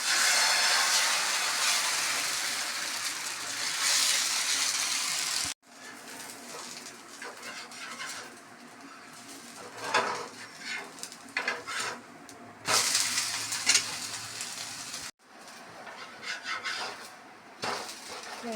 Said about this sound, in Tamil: தோசை ஊற்றிடலாம்.